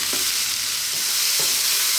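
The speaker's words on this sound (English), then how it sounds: "Stirring pretty much all the time." Mushrooms stir-fried over really high heat for a vegan Chinese mushroom fried rice give a loud, steady sizzle, with a few soft scraping stirs of the pan running through it and no talking.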